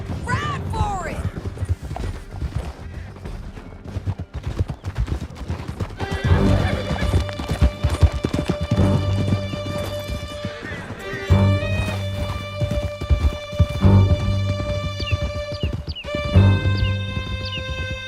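Horses neigh and whinny over clip-clopping hooves during a canyon escape in the video game Red Dead Redemption 2, loud and close, with tonal music and shouting voices layered throughout.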